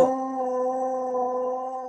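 A dog howls in one sustained, steady, tonal note held for the full two seconds, loud and close indoors with no other sounds.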